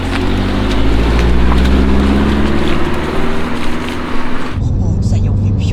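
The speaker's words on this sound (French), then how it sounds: "Le son du moteur n'a rien à voir avec celui de ma Lancia" Lancia Delta Evo engine and exhaust running steadily with a deep, rumbling drone, loud and close, dropping to a lower idle near the end, with someone speaking over it.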